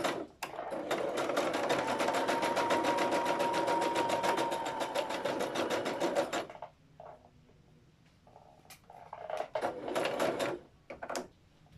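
A sewing machine stitches fabric in a fast, even mechanical rattle for several seconds, then stops. Short clicks and handling knocks follow as the cloth is adjusted.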